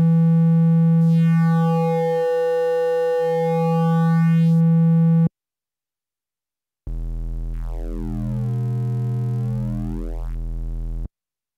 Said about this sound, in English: Triangle wave sounds like this.